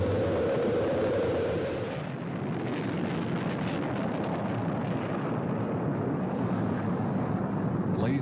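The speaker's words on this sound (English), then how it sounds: "We have main engine start." Rocket main engines fire at launch, a dense, continuous roar filling the whole clip, loud and steady with a rumbling low end and hissing wind-like texture, as heard over a broadcast feed.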